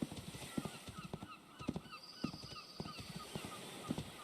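Horse hooves clip-clop at a steady rhythm in the video game Wild Terra 2, close and moderately loud over ambient game sound.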